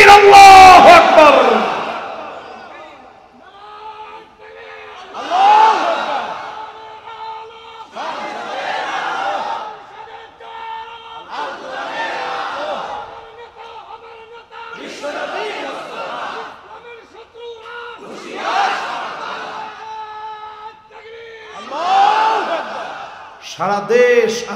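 A large crowd chants the takbir in repeated call-and-response rounds at a religious gathering, with loud roaring shouts returning every few seconds after a lead voice.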